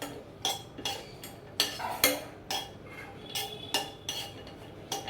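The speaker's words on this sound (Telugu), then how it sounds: "ఒక 8 బాదం పప్పు, ఒక 5 కాజు వేసి వేపుతున్నాను ఫ్రెండ్స్" Almonds and cashews roasting in a pan, stirred with a utensil that clinks and scrapes against the metal in irregular, close taps and rattles, with no talking.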